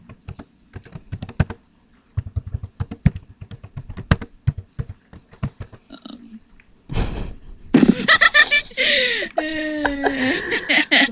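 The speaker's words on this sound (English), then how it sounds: "What are you typing?" Fast clicky typing on a computer keyboard during a Warcraft session, bursts of keystrokes near the mic, followed by a voice, laughter and some brief game or electronic tones.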